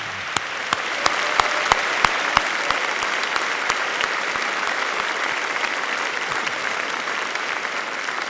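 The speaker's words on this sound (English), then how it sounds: "please join me in a round of applause for these important members of Hempfield School community" A school district audience gives sustained applause honoring members of the class of 1969, a steady wash of many hands clapping with a few sharper individual claps standing out.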